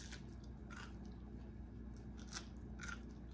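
Crunchy homemade cookies being bitten, with three or four sharp crunching bites spaced through the clip over a steady low background hum, close and fairly quiet.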